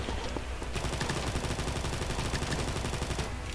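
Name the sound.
gunfire in the video game Combat Master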